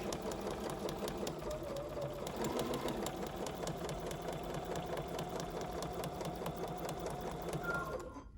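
A BERNINA sewing machine fitted with a 43 couching foot stitches a Christmas cushion in a fast, even mechanical whir of rapid needle strokes, running steadily close by before stopping abruptly at the end.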